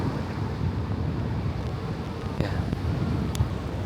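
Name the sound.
wind outdoors at Imperial Palace Outer Garden, Tokyo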